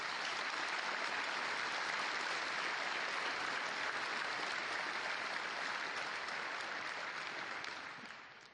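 Dense, continuous applause from a large conference audience at a Fanfest 2012 keynote, sustained at an even level for several seconds before tapering off at the end.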